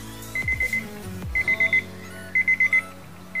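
A cheap digital wall clock alarm beeps in three rapid groups of four high electronic tones, close and clear, with mechanical clicks between the bursts.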